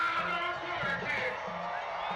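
Stadium crowd at a soccer match between Las Vegas Lights FC and Fresno FC, a broad roar of cheering and whooping voices that rises and swells steadily, heard at a distance beneath the ongoing murmur of the stands.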